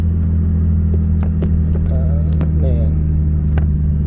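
A turbocharged Lexus IS300 drives and accelerates with a loud, steady low engine rumble and droning hum throughout, while someone talks briefly over it inside the car.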